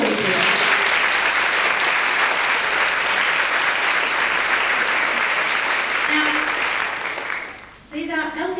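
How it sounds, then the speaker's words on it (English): Loud, sustained applause from an audience at a clog dancing festival workshop showcase, steady for about seven seconds before fading, followed by a brief burst of voices at the end. "So this is the applause for the musicians before we do it."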